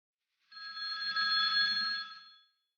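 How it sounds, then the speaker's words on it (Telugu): A telephone in a house rings once with a bright electronic trill lasting about two seconds, then stops, heard alone against silence. "Phone lift చేయట్లేదేంటి?"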